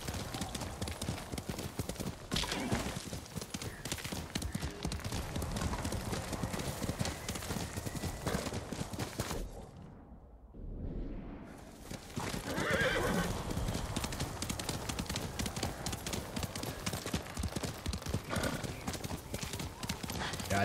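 Horse hooves clip-clop steadily at a gallop with several loud neighs and whinnies, set in the samurai video game Ghost of Tsushima; game sounds and some speech mix in, with a brief quiet gap near the middle.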